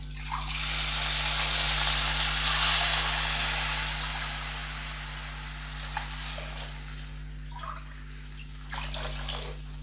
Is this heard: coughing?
no